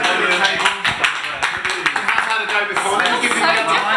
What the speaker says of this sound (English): now I am going to ask for a round of applause